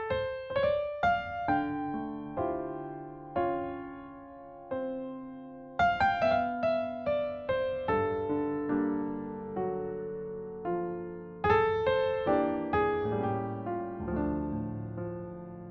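Solo piano plays a slow sequence of jazz minor chords with the voicing placed in the middle register, each chord struck and left to ring and decay, unaccompanied and without speech.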